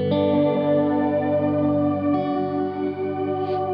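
A Strymon Timeline delay pedal in ice mode gives a sustained shimmering wash of layered electric guitar tones. A new chord enters partway through and rings out with smeared, glassy echoes.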